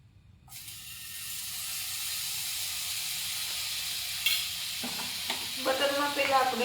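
Butter melting and sizzling in a hot pan, a steady hiss rising after a quiet start, with stirring clatter and crackling bursts toward the end.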